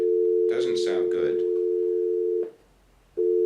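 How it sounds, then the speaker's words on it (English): A steady telephone dial tone hums loud and continuous, briefly cutting out near the end before resuming, with someone talking over its first part. "All I hear is a dial tone."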